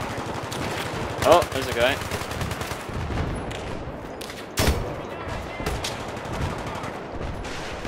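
Rapid automatic gunfire from Battlefield 3, dense bursts of machine-gun fire and shots crackling through the whole stretch, with a few sharper loud cracks, while players talk over the battle.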